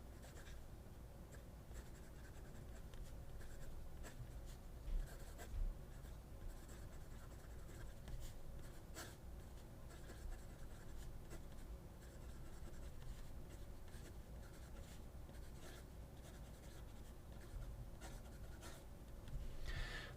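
A fountain pen with a Schmidt nib scratches across paper close up, a faint continuous dry rasp with small strokes and taps, quiet and alone.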